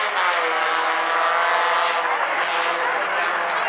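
Bumblebee-class race cars roar through an 8-lap heat race at South Sound Speedway, a loud continuous engine drone that swells and holds steady.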